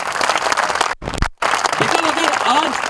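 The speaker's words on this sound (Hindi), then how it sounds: "उनके लिए भी ताली बजा दीजिए प्लीज़" An audience at a street protest against mandatory vaccination claps steadily in loud, dense applause that fills the space, with a brief drop in the middle before the crowd continues.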